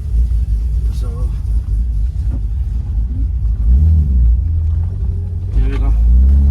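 A BMW E30 325is engine rumbles steadily at low pitch while the car is driven, a muted, moderately loud drone with occasional rises as it pulls, with a voice talking over it.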